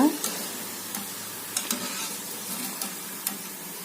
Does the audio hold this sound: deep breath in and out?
no